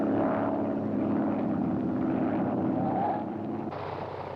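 A WWI-era propeller training aircraft drones loudly in a steady engine roar as it comes in to land, the engine note dropping and easing off near the end; no voices.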